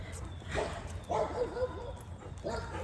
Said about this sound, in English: there's a dog over there